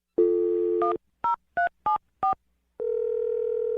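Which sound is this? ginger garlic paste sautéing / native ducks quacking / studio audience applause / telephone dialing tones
telephone dialing tones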